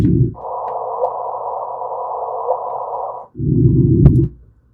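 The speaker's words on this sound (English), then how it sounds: "the waves are converted into sound, and it's considered a chirp" A gravitational wave chirp from two merging black holes converted to sound: a low electronic tone that jumps up into a sustained higher hum, then drops back to a low rumble with a brief click near the end.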